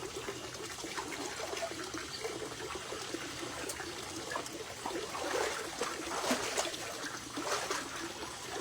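Water runs and splashes steadily while someone bathes, a continuous soft rush with faint trickles, at a moderate distance and with no voices.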